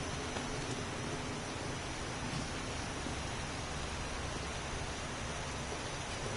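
Steady rain pours inside an underground base in the 7 Days to Die video game, a dense, even hiss holding at one level throughout with no voices.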